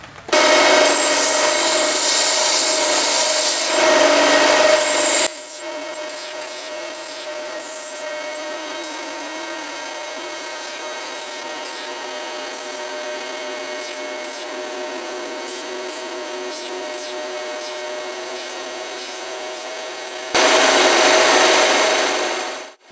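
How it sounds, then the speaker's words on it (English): A belt sander smoothing the sharp cut edge of a metal piece for a cigar box guitar build, loud harsh grinding bursts at the start and end with the motor whirring more quietly between them. "We're going to take care of that right now on the belt sander."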